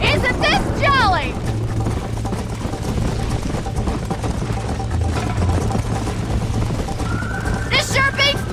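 Horse hooves clip-clop at a steady gallop throughout the Red Dead Redemption game, joined by neighs and whinnies near the start and end, with someone shouting encouragement over the ride.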